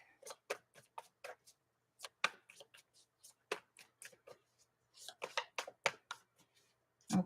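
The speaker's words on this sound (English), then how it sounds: "Just shuffling up this deck." Tarot cards being shuffled by hand in a series of short, crisp riffling bursts and flicks separated by brief pauses, fairly close and quiet, with no talking.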